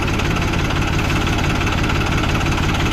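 Tractor diesel engine idling up close, a loud, steady low rumble with a rapid knocking pulse that never lets up.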